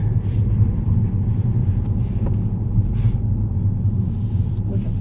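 A manual-transmission car, driven by a learner, rolls along in second gear while turning, giving a steady close engine rumble and road drone throughout, with no strong revving.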